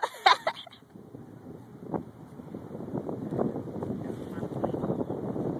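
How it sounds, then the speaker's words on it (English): Wind buffets the microphone in a low, steady rumble that grows stronger, with a brief voice near the start. "That was very windy."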